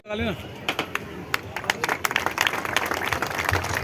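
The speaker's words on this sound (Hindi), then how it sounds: "एक बार जोरदार तालियों से अभिनंदन।" An audience claps at a park inauguration event, with scattered, uneven applause that builds steadily over a background of crowd murmur and voices.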